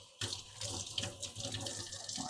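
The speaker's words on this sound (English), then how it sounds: "Wash my hands." Hands rinsed under a running kitchen tap, a steady close splashing stream that starts abruptly and carries on throughout, with faint background talk.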